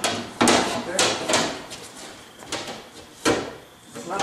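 A glass pane is fitted into a four-door Passat or Audi door, with several close thuds, knocks and sliding scrapes separated by short gaps, and speech partly over them.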